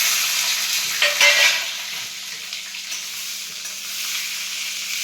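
Fresh green peas are roasted in a hot pan, giving a steady, close sizzle with light stirring and scraping throughout and no talking.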